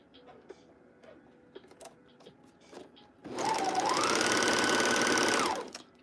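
A sewing machine stitches dusters in one loud, steady run of about two and a half seconds, after quieter handling clicks and rustles.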